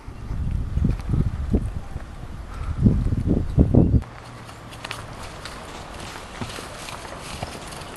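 Horse Chex trotting out in the open with a rider, a burst of close rhythmic hoofbeats for about four seconds that then cuts to a quieter stretch of faint outdoor noise.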